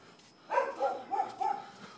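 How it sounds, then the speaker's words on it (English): Dogs barking outside at a neighbor's house, a quick run of four or five yappy barks, fairly faint and distant, with no talking. "they've got their dogs barking"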